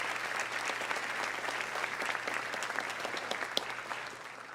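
A high school senior awards ceremony crowd claps for the class of 2023, a full steady round of applause with scattered sharper claps, tapering slightly as it closes.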